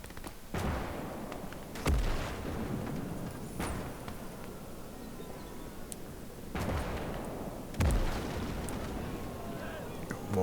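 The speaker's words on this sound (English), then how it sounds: "Oh, that's that cannon, is it?" Cannon fire in the WWII strategy game Gates of Hell, Battle of Smolensk, heard as two or three sharp booming shots several seconds apart over a continuous battlefield din of distant gunfire and rumble.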